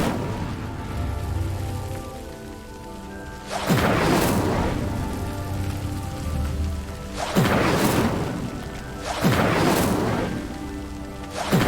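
The Incendio fire spell in Hogwarts Legacy ignites pyres in three roaring, whooshing bursts of flame, each swelling and fading over a steady crackling, rain-like background.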